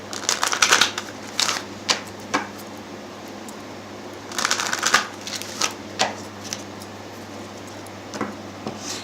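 Animal oracle cards being shuffled for a reading, soft papery riffling and tapping in irregular bursts, faint and close in a quiet room.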